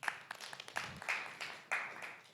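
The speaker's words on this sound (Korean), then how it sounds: "네, 박수 부탁드리겠습니다." Lecture audience applauding in a hall, a short burst of scattered claps that swells and fades in uneven waves, moderately distant.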